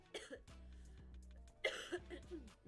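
A woman coughs a couple of times, fairly quiet and a bit distant, over a low steady hum and faint background voices.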